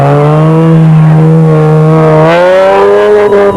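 Toyota Land Cruiser off-road race vehicle based on a production 4x4 bakkie with an uprated engine, loud and close, engine droning steadily before its pitch climbs as it revs and accelerates.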